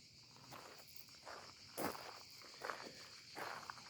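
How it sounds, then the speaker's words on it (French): Cicadas buzz on a hot, sunny day, a steady high chirring bed with soft, uneven pulses and light rustling or footsteps nearby, moderately quiet and with no talk. "il y a beaucoup de cigales"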